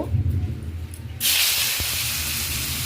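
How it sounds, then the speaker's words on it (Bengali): Pointed gourd pieces drop into hot mustard oil in a pan, and a loud, sudden sizzle bursts up and settles into a steady, close hiss after a quieter start. "প্রথমে সর্ষের তেল গরম করে পটলগুলো ছেড়ে দিলাম।"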